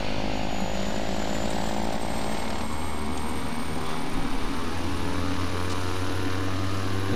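Beechcraft B350 turboprop engine spooling up during a start in a flight simulator, a steady loud roar with rising tonal whine and low droning hum, continuous throughout with no talk.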